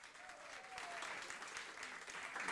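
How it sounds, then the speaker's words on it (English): Audience applause at a community talk event at Fogartyville, soft and fairly distant, a steady patter of many hands that swells slightly toward the end. "A round of applause for them, too."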